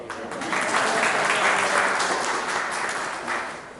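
An audience claps in a sustained, fairly loud wash of applause that holds steady throughout and tapers only slightly at the close.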